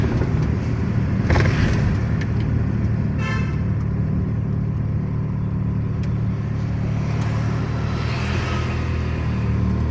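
A Honda Accord Cielo 2200cc car drives along with a steady, loud engine and road rumble from inside the cabin. Brief horn toots sound faintly from nearby traffic.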